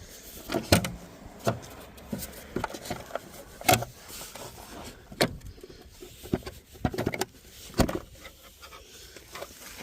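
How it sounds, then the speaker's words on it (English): A plastic engine airbox being lifted out of a Jaguar's 2.0-litre engine bay: close plastic knocks, creaks and scrapes in uneven bursts against a quiet background. "now you just need to lift up this airbox straight up"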